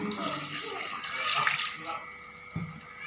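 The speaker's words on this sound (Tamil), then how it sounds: "நம்ம குழம்புக்கு தேவையான மாதிரிக்கு தண்ணி ஊற்றி நம்ம வச்சுக்கணும்" Water pours steadily into a pot with a rushing splash, tapering off, followed by a soft clunk near the end.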